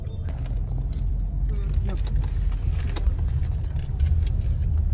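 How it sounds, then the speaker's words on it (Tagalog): Nighttime road traffic in a busy shopping district, a steady low engine rumble with passing vehicles, jingling and clattering sounds, and people talking nearby. "Ay, traffic pa rin."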